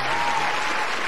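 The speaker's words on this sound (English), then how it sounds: "Insert applause!" A burst of applause from a crowd, dense and steady, filling the whole moment at a loud, even level.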